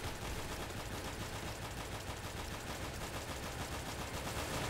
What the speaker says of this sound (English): Now I got a submachine gun.